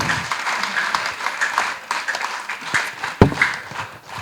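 Applause at a school graduation ceremony as graduating students come to the stage, scattered clapping from a crowd, uneven in rhythm, with one sharp louder clap near the end.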